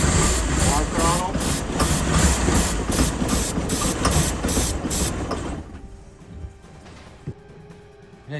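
A big engine kept running on ether as the throttle is opened, a loud continuous rumbling roar with rhythmic pulses that cuts off partway through, leaving quiet background and a faint knock.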